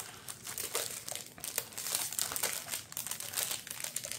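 Thin plastic bag holding the numbered parts of a large pop-up book crinkles and crackles continuously up close, with dense irregular rustling bursts throughout and no speech.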